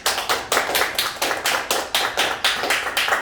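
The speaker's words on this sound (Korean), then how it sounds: "큰 박수 한번 부탁드리겠습니다" A small audience applauds in rhythmic, unison clapping at a gathering, with distinct evenly spaced claps at moderate loudness and no other sound.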